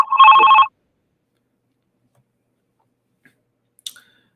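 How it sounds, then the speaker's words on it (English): A single short telephone ring chimes loudly for under a second as a call comes in on a sports talk podcast, followed by near silence and a faint click. "We got a phone call."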